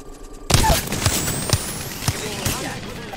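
Gunfire in Apex Legends, a sudden loud burst followed by scattered sharp shots and impacts over about three seconds, with a faint voice underneath.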